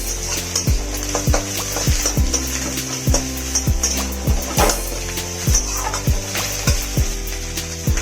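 Chopped onions fry in a pan under a continuous sizzle, while a utensil stirs them with regular knocking scrapes that land about twice a second, close and clear.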